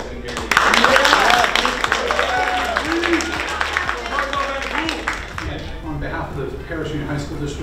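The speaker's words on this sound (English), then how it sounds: "Let's give a round of applause to Chris and Gary." Audience applause and clapping at a school district event honoring two people, a sustained burst of claps from the crowd mixed with voices talking over it, strongest at the start and thinning toward the end.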